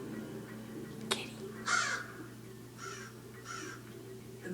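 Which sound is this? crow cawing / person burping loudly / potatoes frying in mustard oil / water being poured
crow cawing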